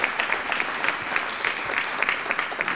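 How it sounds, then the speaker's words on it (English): Steady applause from an evening audience in a Notre Dame community gathering, dense clapping with no pauses for about three seconds. "Let's give her a huge round of applause"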